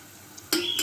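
Capsicum and cabbage being stirred by hand into pakora batter in a bowl, a short burst of wet, squelching mixing that starts abruptly after a moment of quiet and continues close and fairly loud.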